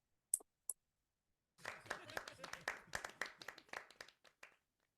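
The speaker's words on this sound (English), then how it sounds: "You hear applause and laughter." Quiet video-game applause in The Life and Suffering of Sir Brante, opening with two sharp isolated clicks, then a short scattered burst of clapping from a small crowd that tapers off into silence.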